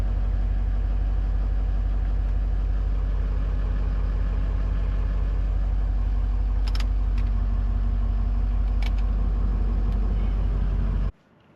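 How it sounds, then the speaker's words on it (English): A service truck engine runs steadily at close range with a low, even rumble and a few brief high clicks partway through, then cuts off abruptly near the end. "There goes the service truck."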